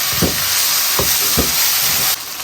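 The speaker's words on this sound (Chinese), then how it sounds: "葱姜蒜爆个香" Ginger, garlic and scallion frying in hot oil: a loud, steady sizzle, with a few soft stirring knocks breaking through.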